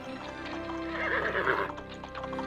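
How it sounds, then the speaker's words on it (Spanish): A horse whinnies loudly over a dramatized scene with a steady musical bed underneath, and faint hoofbeats patter along beneath the call. "avanzaba en el caballo con un enorme sobre"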